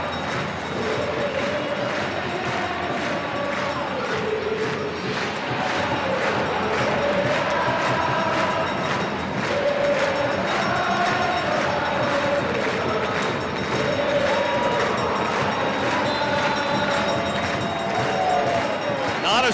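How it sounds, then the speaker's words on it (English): Sellout Tuesday night stadium crowd at a Real Salt Lake versus Seattle Sounders FC soccer cup match in Salt Lake City, a steady roar of chanting and cheering throughout, with a commentator talking over it. "a boisterous Tuesday night crowd here at the Riot in Salt Lake City"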